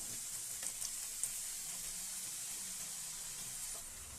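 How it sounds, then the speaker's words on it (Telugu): Kajjikayalu frying in hot oil until golden, a steady, dense sizzle with constant bubbling hiss throughout and no talking. "గోల్డెన్ కలర్ వచ్చిందాక ఫ్రై చేసుకోవాలి"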